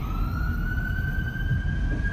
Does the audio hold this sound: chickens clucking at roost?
no